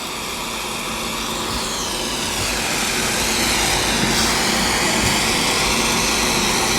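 A torch heats a metal pendant from underneath during stamping work, giving a steady, close roaring hiss that continues unbroken and grows slightly louder over the stretch.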